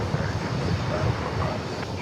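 Global X Airbus A320-200 at DFW Airport, a steady, fairly loud broadband roar of the jet blended with wind buffeting on the microphone, continuous for the whole stretch.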